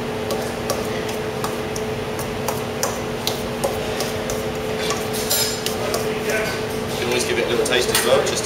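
Homemade guacamole gets a vigorous stir in a bowl, with soft scraping and light clinks of utensil against the bowl repeating through a steady background hum, growing busier toward the end.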